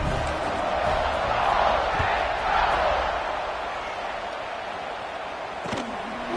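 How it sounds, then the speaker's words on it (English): A stadium crowd roars in the college football video game College Football 26 during an Ole Miss versus Washington game. It is a sustained broad crowd noise that swells in the first half, then eases, with a sharp thud near the end. "this crowd is feeling themselves after that last drive"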